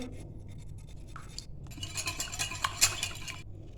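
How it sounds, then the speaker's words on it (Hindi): Chicken for tandoori being beaten in a bowl, light scraping and clinking strokes that start sparse and quicken into a busy, rhythmic run of close, fairly quiet utensil-on-bowl sounds. "सबसे पहले इसको बीट कर लेंगे।"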